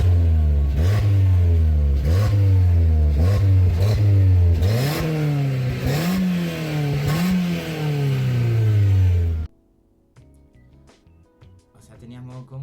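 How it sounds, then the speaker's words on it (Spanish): A loud sporty car engine in sport exhaust mode revs up repeatedly in rising and falling surges, crackling through the exhaust, then cuts off abruptly to near quiet. "cambiaba totalmente el sonido del escape y mejoraba el rendimiento del motor."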